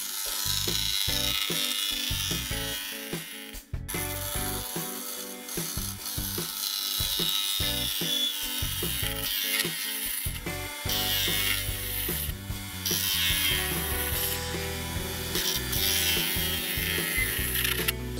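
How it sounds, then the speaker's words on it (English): A gouge hollows the inside of a yew vase on a spinning wood lathe, a steady loud scraping chatter with rhythmic ratcheting pulses that runs continuously and alone. "So I'm going to hollow the inside out to that thickness"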